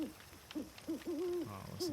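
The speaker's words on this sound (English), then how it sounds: "listen to the owl too" Owl hooting in the video game Lost in Random: several short, wavering hoots in a rhythmic series of rising and falling calls, fairly close and clear against a quiet ambient background.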